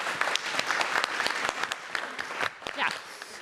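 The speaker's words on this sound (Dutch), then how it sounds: "Dus geef hem een hartelijk applaus." An audience at a talk on healthy soil and local food applauds a chef, sharp, close hand claps in an uneven, lively rhythm lasting a few seconds.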